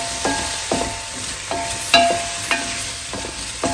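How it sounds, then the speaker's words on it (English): Vegetables for nikujaga beef stew sizzle in a pan while being stirred, with about six distinct scraping strokes of a utensil landing at a steady rhythm over the constant frying hiss. "So, now I'm just gonna give the vegetables another stir."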